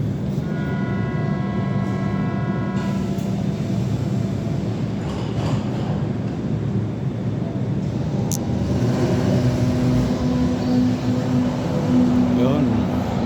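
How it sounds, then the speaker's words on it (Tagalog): A vehicle on the road approaches with a steady rumbling drone that rises toward the end, with tonal hums layered over the noise. Someone talks over it. "Ayan, parating naman yung sasakyan natin guys."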